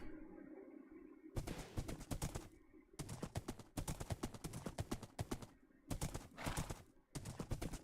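Steady clip-clop of a horse's hooves at a walking pace in Minecraft, fairly close, with a brief pause between bursts of footfalls over a soft background.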